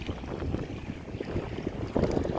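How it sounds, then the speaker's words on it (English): Steady wind buffeting a microphone outdoors on an Advanced Elements Island Voyage 2 inflatable kayak, with rumbling gusts and faint splashing, getting louder toward the end. "even though you can hear the wind, you can tell it's going"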